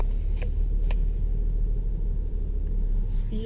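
A manual car's engine idles with a steady low rumble as it creeps backward in reverse while the clutch is eased out slowly. A few faint clicks sound over the constant engine drone.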